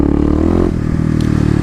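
A Kawasaki KLX250 dirt bike's engine revs loud and close during a second-gear wheelie in a mall lot, climbing in pitch, then dropping back to a steady drone.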